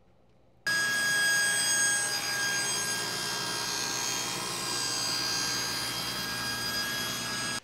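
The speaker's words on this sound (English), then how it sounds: "I'm going to use my sled and my table saw to get it close," A table saw with a sled cutting wood for a storage cabinet, starting abruptly and whining loudly and steadily for several seconds close by before cutting off.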